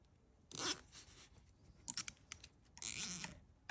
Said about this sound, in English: we're gonna secure the wires firmly with a pair of zip ties.